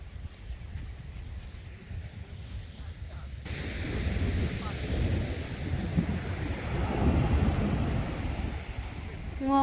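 Sea waves washing onto a clean, cold beach, a broad steady rumbling wash that swells louder midway and stays continuous and close, with no talking.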